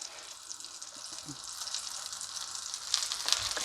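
Steady sizzling of eggplant slices frying in hot oil, a constant crackling hiss with a couple of sharper pops near the end, close by and without voices.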